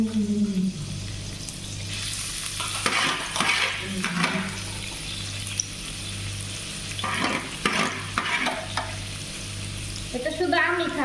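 Chopped onions (two) tipped into a pan and stirred while frying, with a steady close sizzle, scraping stir strokes and occasional clanks throughout, no voices.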